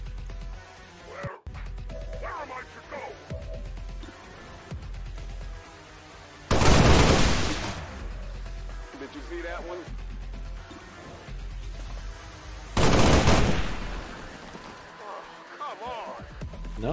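Two loud bursts of gunfire in the video game XCOM 2: War of the Chosen crack out several seconds apart over steady game sounds, while people keep talking throughout.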